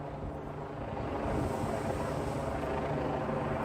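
A police helicopter drones overhead above a London street rally near Trafalgar, a steady low rumbling thrum that holds evenly throughout without talk.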